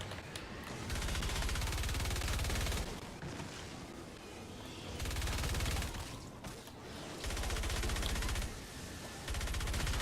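SWAN assault rifle LMG in Fortnite Save the World firing long sustained bursts of rapid automatic fire, separated by short pauses, loud and continuous.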